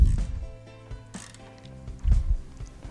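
Allen screws are tightened on a Norden Tie-Grabber knotter, giving quiet, close metallic clicks and ratcheting tool sounds in short irregular bursts.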